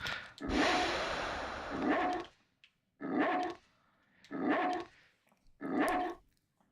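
A dog in the survival horror video game Haunting Ground barks and growls in four loud, close bursts, the first long and ragged, the rest short and evenly spaced with brief gaps between.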